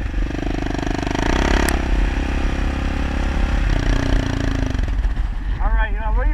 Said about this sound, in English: On a KLR 650, 2011, Kawasaki KLR 650.